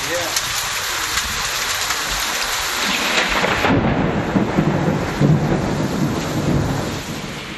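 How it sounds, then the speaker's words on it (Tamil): Heavy rain pours down in a thunderstorm with strong wind and hail in Tamil Nadu, a dense continuous roar of rain and gusts with thunder rumbling underneath, loud and steady throughout. "பலத்த காற்றுடன் கனமழை பெய்த நிலையில் முத்துலாபுரம் பகுதியில் சூறாவளி காற்றுடன் ஆலங்கட்டி மழை பெய்தது"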